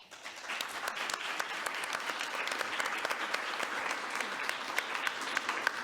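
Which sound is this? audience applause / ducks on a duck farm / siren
audience applause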